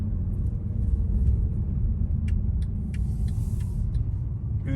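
A Porsche car at the V8 Hotel in Germany gives off a steady, loud, low engine rumble, with faint metallic clicks and ticks over it and no talking.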